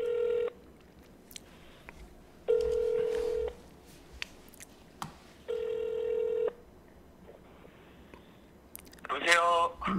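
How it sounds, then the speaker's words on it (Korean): A telephone ringback tone repeats three times in steady one-second bursts with pauses between them, followed by a short burst of dialing-like beeps, with faint background noise throughout. "한번 전화를 지금 바로 해보겠습니다"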